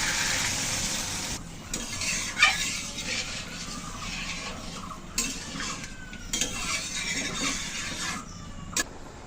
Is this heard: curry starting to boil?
yes